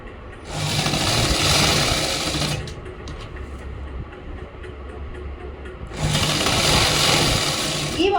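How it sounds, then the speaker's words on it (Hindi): A sewing machine stitches a salwar seam in two loud, steady whirring runs close by, with a quieter pause between them. "वही 1/2 इंच का गैप देते हुए सिलाई करेंगे"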